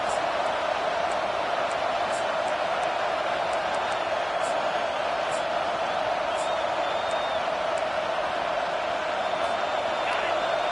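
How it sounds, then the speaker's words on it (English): A stadium crowd in a college football video game roars on third down, a dense, steady wall of cheering that holds at a loud, even level for the whole stretch. "Decibels rising as the crowd gets behind this defense on 3rd down."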